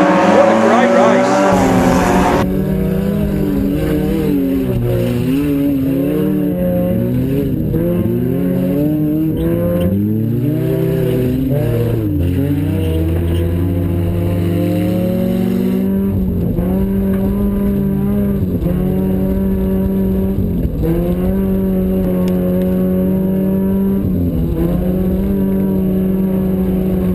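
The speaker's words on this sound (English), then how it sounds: "Rubbing going on. Just wheel spinning all the way round. What a great race." Race cars engines droning and revving continuously with wavering pitch as they jostle around the track, wheels spinning, loud and sustained throughout, a commentator's voice partly under the engine roar.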